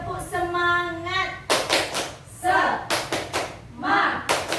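Rhythmic group clapping in a training-session room, several sharp bursts of hand claps in a patterned beat, with a woman's sung or chanted voice and talk between and around the claps.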